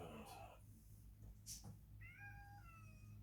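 A house cat meows nearby, two or three drawn-out rising and falling calls, mid-volume over a faint hum in a quiet room.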